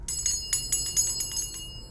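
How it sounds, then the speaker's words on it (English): A small handheld bell rings in a series of light, bright jingling strikes, close and fairly soft, with no speech over it. "Got myself a little bell."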